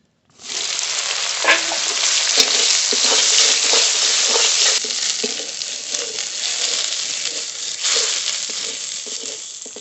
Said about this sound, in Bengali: এই তেলে সয়াবিনগুলো ভেজে নেব